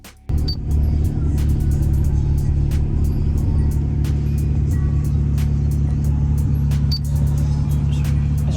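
Deep, sustained bass thumps from two 18-inch subwoofers inside a truck running on the stock battery and alternator, a loud continuous low-end rumble filling the cab with brief sharper hits over the top.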